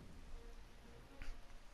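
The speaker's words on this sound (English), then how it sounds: "The rain isn't making things any more pleasant, Brunor." Rainfall in the video game Idle Champions of the Forgotten Realms, a soft continuous patter at low level with a brief louder splash or rumble near the end.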